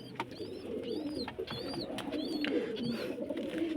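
Pigeons in their nest coo softly and repeatedly at close range, their low murmuring calls mixed with sharper high chirps that recur every half second or so.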